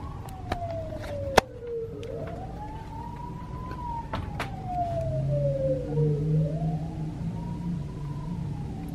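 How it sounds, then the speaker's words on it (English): A wailing siren sweeps up and down repeatedly, moderately distant, with a sharp click and faint traffic noise underneath. "Fire engine's still coming"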